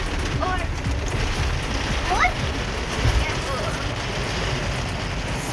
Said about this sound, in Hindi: कितनी ज़बरदस्त हसीन बारिश ने हमारा वेलकम किया